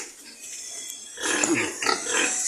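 Native pigs on a farm grunt and snort close by, a short burst of several rough grunts starting after a quieter moment of faint background noise.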